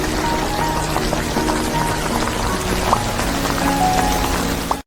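Steady rain falls around a camper van parked in remote woods, a dense, continuous patter with occasional louder drops against nearby surfaces, close and constant throughout with no voices.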